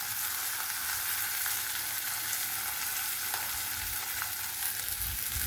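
Spice masala lightly frying in a pan for rui fish vorta gives a continuous, even sizzle with faint stirring, close and steady with no voices.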